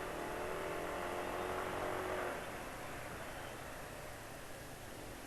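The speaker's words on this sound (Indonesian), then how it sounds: "Ini NSR tapi suaranya kok gak kayak NSR ya, kayak mesin rusak." Honda NSR motorcycle engine running rough and unhealthy, a steady faint whirring drone that eases slightly after the first couple of seconds, with no voices.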